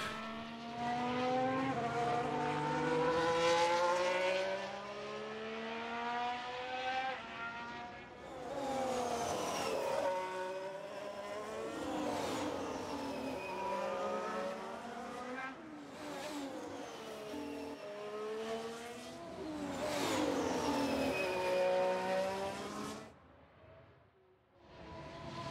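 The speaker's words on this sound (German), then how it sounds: "Der eine Ferrari fährt auch jetzt schon mal auf die Strecke." Formula 1 race cars from F1 Manager 2022 at the Monaco Grand Prix rev and whine as they pass one after another onto the track, with rising and falling engine pitch and steady loud sound throughout.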